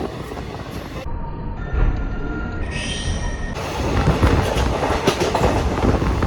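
A superfast express train, Kolkata–Haldibari, pulls into Rampurhat Junction station, a steady loud rumble of wheels and carriage noise with brief tonal squeals and hums midway, no voices.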